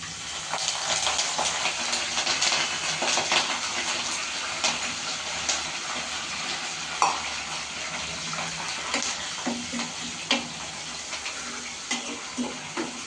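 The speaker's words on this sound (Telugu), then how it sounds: "ఇప్పుడు నూనె బాగా వేడిగానే ఉన్నది కదా. ఇప్పుడు కరివేపాకు వేస్తానండి." Curry leaves drop into hot oil and sizzle steadily, a continuous bright hissing crackle with scattered pops, close and moderately loud, with no talking.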